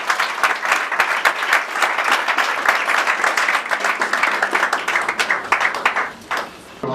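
Audience applause at a Congolese political gathering: loud, sustained clapping from a crowd for nearly seven seconds, briefly dipping near the end.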